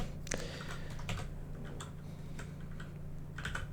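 Keystrokes on a computer keyboard while a PC game runs, scattered taps and short bursts of typing over a steady low hum, close and moderately quiet.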